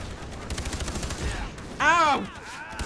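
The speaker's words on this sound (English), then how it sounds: "explosions!" Gunfire and explosions in the Far Cry 3 video game, a dense stretch of rapid, loud bursts and blasts, followed by a voice shouting briefly over quieter background noise.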